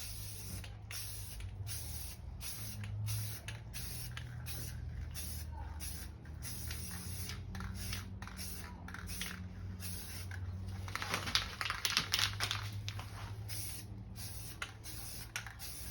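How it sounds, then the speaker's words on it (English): Clear coat is sprayed onto car rims in light passes from an aerosol can, producing repeated short hissing bursts with brief gaps, fairly close, over a low steady background hum. "spray lightly and spray from a distance"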